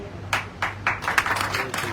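Scattered audience clapping at a business event, a handful of sharp claps spaced irregularly and then bunching briefly, heard against a low murmur in the room.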